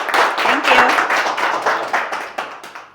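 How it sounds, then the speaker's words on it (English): An audience at a marketing meetup applauding a speaker, a short burst of dense close clapping that fades slightly, with voices over it. "let's give her a round of applause"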